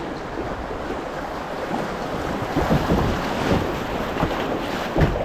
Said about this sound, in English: All right, let's get these rapids.